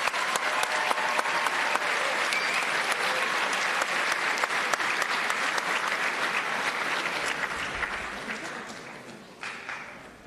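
Sustained audience applause at a school graduation ceremony, a steady dense clatter of many hands that carries on for about nine seconds before thinning out at the end.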